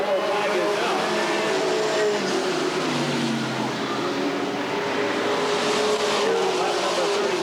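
Stock race cars, including a Camaro, roar around the oval at Redwood Acres Raceway under a yellow flag, a dense continuous engine drone from a pack of cars heard from the stands, with a commentator talking over it.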